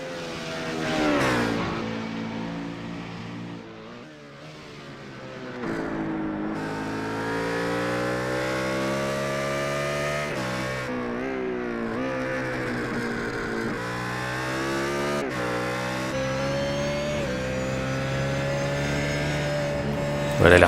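A BMW Z4 GT3 race car engine howls around a circuit in a French GT3 Cup championship round, its loud, close whine rising and falling in pitch through gear changes almost without pause.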